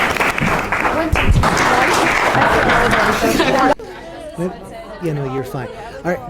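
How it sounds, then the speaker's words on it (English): Audience applause at a school mock trial showcase, loud and dense for nearly four seconds, then cutting off abruptly as a nearby voice speaks briefly. "Thank you. Round of applause."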